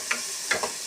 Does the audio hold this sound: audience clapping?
no